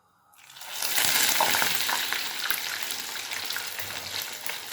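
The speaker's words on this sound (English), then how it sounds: "Then you fry." Egg-and-milk-dipped bread frying in a pan, a loud steady sizzle that swells up within the first second and keeps crackling densely on its own with no voices.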